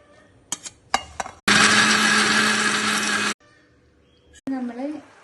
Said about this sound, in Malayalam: ചക്ക മിക്സിന്റെ ജാറിലൊന്ന് ഒതുക്കണം